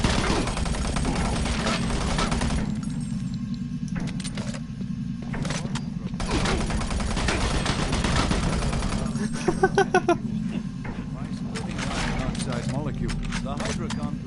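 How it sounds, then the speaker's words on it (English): Gunfire in the video game Doom 3 on PS4, rattling bursts of shots over a constant droning game ambience with mechanical clanks, heard from the player's position amid continuous background noise. "I just simply heard gunfire."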